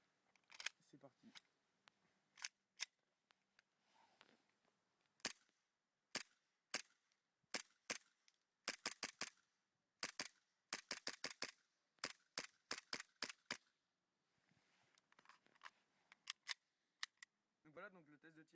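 Sharp cracks from a WE P226 E2 gas blowback airsoft pistol firing BBs from a 24-round magazine, some single shots and several fast strings of two to four, loud and close with quiet gaps between.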